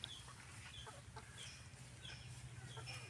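Native desi chickens cluck in short, scattered calls over a steady low hum, fairly faint throughout with no talking.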